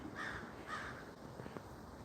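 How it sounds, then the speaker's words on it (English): A crow caws twice in the distance, faint against quiet outdoor air, with no talk over it. "do you hear the birds? That was actually a crow"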